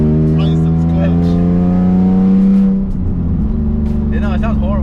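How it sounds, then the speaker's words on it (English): A Nissan 350Z with an aftermarket exhaust drones loudly from inside the cabin, a steady low rumble that rises in pitch, dips as the driver shifts, then settles again, while people talk over it. "You know, it sounds horrible. Like the exhaust."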